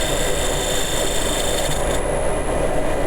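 Dust extractor running steadily in a woodturning workshop during fine shear cuts on an ash bowl at about 1600 rpm, a loud continuous broadband roar with a faint tonal whine that holds without a break.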